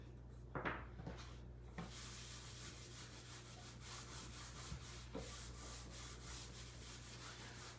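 Wax being rubbed onto an unseasoned chalkboard, quiet repeated scraping and rubbing strokes with a few sharper knocks at the start, faint and close over a low electrical hum with no talking.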